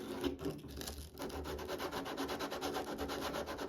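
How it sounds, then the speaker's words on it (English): Close, steady rubbing of P180 sandpaper around the edge of a hole in a drum, a continuous rhythmic scratching with even back-and-forth strokes and no voices. "we're going to use a bit of sandpaper. This is a P180 sandpaper."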